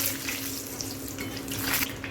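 Fried potatoes for aloo bhujia are lifted and strained out of hot frying oil, giving a steady, close crackling sizzle throughout with no voices.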